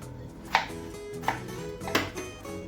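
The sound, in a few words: chopping food with a knife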